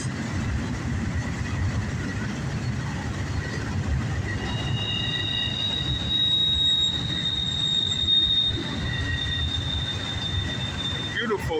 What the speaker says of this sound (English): Beautiful intermodal double stack here.